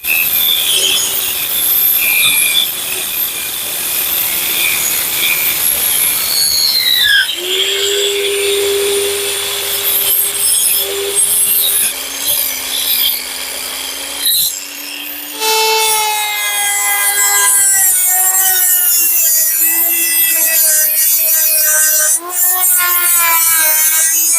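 A drill fitted with a grinding bit works into wood, giving a continuous whirring, rasping grind that shifts pitch as the bit bites and eases, loud and close with no talking.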